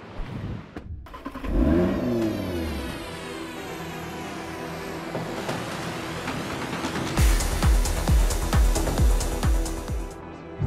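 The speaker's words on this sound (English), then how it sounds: "The first thing that you notice when pulling away in the Nissan Z is the ride comfort." A 2023 Nissan Z sports car pulls away on Australian roads, its engine revving up near the cabin, then cruising with a series of rhythmic thumps from the road surface.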